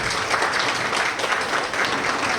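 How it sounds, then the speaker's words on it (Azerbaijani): A crowd at a restaurant breakfast event applauds, dense continuous clapping filling the room at close range. "Bir alqışlar."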